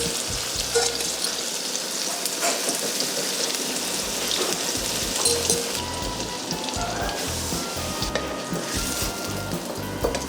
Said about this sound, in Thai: เราก็เอาชะอมลงทอดเลยค่ะ